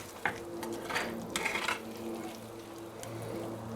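Oven-roasted potatoes and mushrooms are stirred in a pan, with a utensil scraping and clinking in several short bursts over a soft sizzle and no talk.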